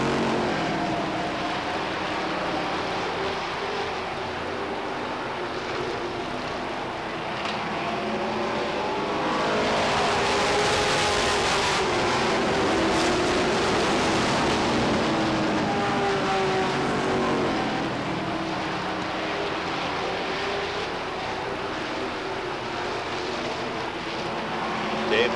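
Stock cars racing at Beech Ridge Motor Speedway in 1992, a steady loud roar of many engines circling the track, swelling midway as the pack passes nearby, with a commentator's voice faintly beneath the noise.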